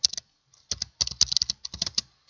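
Quick bursts of typing on a computer keyboard, crisp keystrokes in irregular clusters separated by short pauses, close and fairly quiet.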